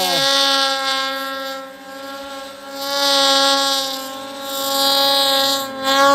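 Turbocharged mountain snowmobiles race side by side uphill, including a Gen 5 sled, their engines screaming loud and close in a sustained high-pitched whine that rises and falls in waves as they climb.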